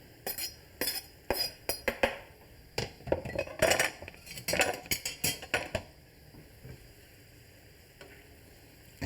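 Mongolian beef with green onions in a thickening sauce, stirred in a pan with a spatula and tongs: irregular close metallic clinks and scrapes in quick bursts, then quieter near the end, with no talking.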